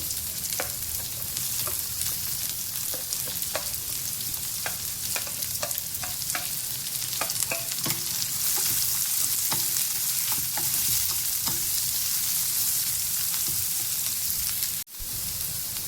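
Finely chopped onion and garlic fry in a pan with a close, continuous sizzle, broken by scattered scrapes and taps as a spoon stirs, then cut off briefly near the end.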